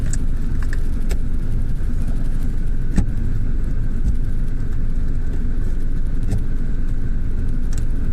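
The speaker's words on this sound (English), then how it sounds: "I don't like leaving the engine running for so long" A car engine idles steadily, left running while parked near the Dutch seaside, a constant low rumble close by with a few faint clicks and knocks over it.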